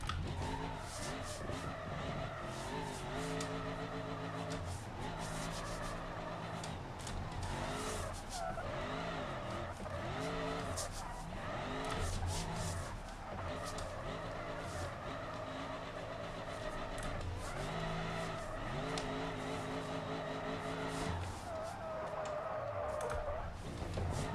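A limo in the BeamNG driving game drifts and skids under the handbrake, its engine droning steadily under long, continuous tyre squeal that rises and wavers throughout, loud and without pause.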